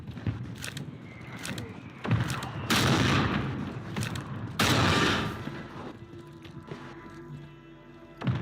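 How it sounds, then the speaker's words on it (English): Mortar strike explosions in a Call of Duty Warzone solos match, several heavy booming impacts spaced a second or two apart amid scattered gunshots, loud and close. "Hostile mortar strike near your position."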